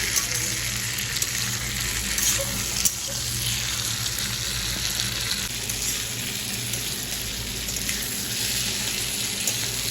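Potatoes sauté in a hot pan, a loud, steady sizzle running unbroken for the whole stretch at close range.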